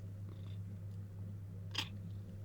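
A cat purrs close by as a steady low rumbling drone that holds through the whole stretch, with a brief soft noise burst near the middle and no talking.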